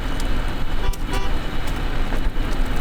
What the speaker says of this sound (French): je vous fais profiter du bruit du klaxon intégré